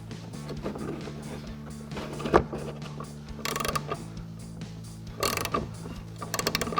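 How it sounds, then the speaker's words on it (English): A 15 mm ratcheting wrench loosens the upper shock mounting bolt on a 2016-2024 Camaro, giving quick runs of close, crisp ratchet clicks with short pauses between them and a steady low hum underneath. "So we'll grab our 15 mil ratcheting wrench and go ahead and get that off."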